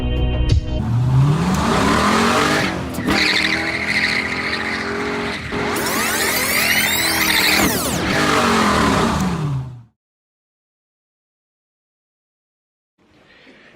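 A C6 Corvette drift car screams at high revs with squealing tires, the engine note rising and falling loudly for about ten seconds before cutting to silence, with a faint sound returning at the end.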